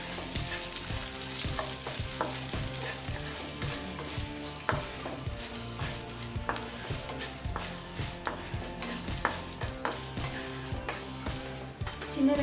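Dried red chillies frying in a pan for okra chutney, with a continuous close sizzle under background music and occasional stirring scrapes.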